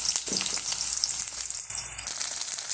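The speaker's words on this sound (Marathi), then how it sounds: "त्यामध्ये थोडी मोहरी, कांदा, मिरची आणि थोडं हिंग टाकून मिक्स करावे." Mustard seeds, onion, green chilli and asafoetida hit hot oil in a kadai, giving a steady, close, bright sizzle with faint crackling and stirring throughout, no talking.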